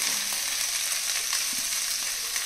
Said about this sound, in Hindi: पैन में हमने 1 चम्मच घी गरम करके आधा चम्मच जीरा डाल दिया है, और अब हम ये सारा आलू वगैरह इसमें डाल देंगे